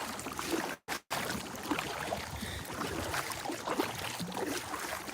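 A boat being paddled across a lake during a bass fishing outing: steady, close watery swishing and splashing with a brief gap early on.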